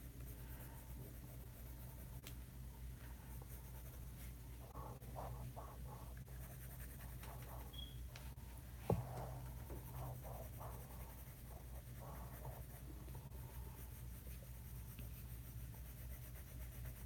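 Pencil drawing a floral heart on paper with light pressure, soft quiet scratchy strokes in short clustered bursts, faint against a low room hiss, with one sharp tap partway through.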